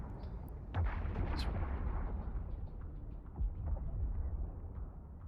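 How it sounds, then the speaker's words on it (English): Ship weapons fire in a space combat scene in the video game Eve Online, with repeated booming blasts over a constant low rumble, two heavier bursts standing out near the start and midway. "Start firing at these."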